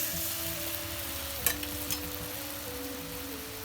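Karam pusa dough pressed into hot oil fries with a continuous close sizzle and bubbling. A couple of brief sharp clicks from the utensil break it, with no speech.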